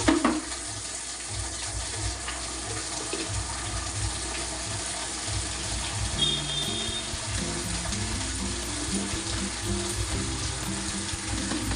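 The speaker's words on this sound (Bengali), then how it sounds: "চলো আগে চাদরগুলো আমি ভিজিয়ে দিই।" Water pours steadily from a tap to soak bedsheets, a constant hissing rush with small splashes as the basin fills, close and unbroken with no talk.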